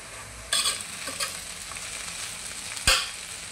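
Fried rice with vegetables is stir-fried in a pan over high flame, with a soft continuous sizzle and a few sharp scraping tosses of the spatula, one near the start and a louder one toward the end.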